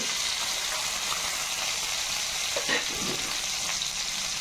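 Curry leaves, green chilli, garlic and onion sautéing in a pan for a vegetable curry, giving a steady close sizzle with a few soft stirring scrapes and no talking.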